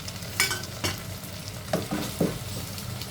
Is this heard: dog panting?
no